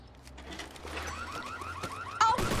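A car alarm in a video game chirps in a rapid repeating pattern of short warbling tones over low rumble, followed by a sudden louder burst near the end.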